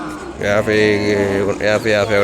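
Gir calves and cattle at the Kodad livestock market, aged about six months to a year, give drawn-out, close, loud lowing calls in several bursts, with voices mixed in among the animals.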